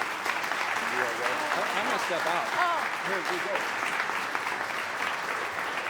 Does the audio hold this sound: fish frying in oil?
no